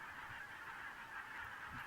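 A flock of Barnacle Geese honks as they fly overhead in an English winter. The calls form a dense, continuous clamour of many overlapping voices, heard at a moderate distance.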